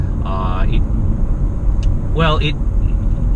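A Honda HR-V Hybrid drives along the city streets of Putrajaya, a steady low road and engine rumble inside the cabin running under continuous talk.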